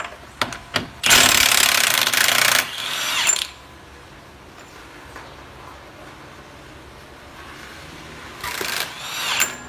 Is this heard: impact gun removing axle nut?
yes